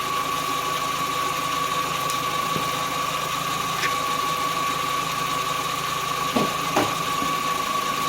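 A 2002 VW Beetle with an automatic transmission idles steadily with a constant even hum, while a few faint clicks and knocks sound nearby.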